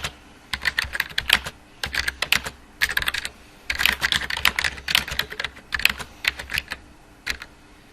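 Someone types a sentence on a computer keyboard in Microsoft Word, close and crisp, with quick key clicks arriving in bursts and separated by short pauses.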